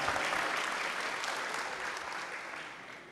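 An audience at a school discussion on violence in schools applauds for Rahma, a dense, steady clapping that stays loud throughout and slowly tapers toward the end.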